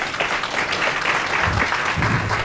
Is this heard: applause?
yes